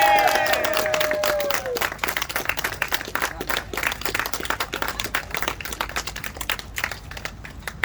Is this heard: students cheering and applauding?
yes